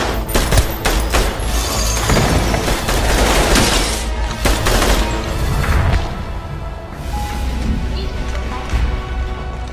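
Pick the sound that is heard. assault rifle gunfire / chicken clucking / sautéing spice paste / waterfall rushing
assault rifle gunfire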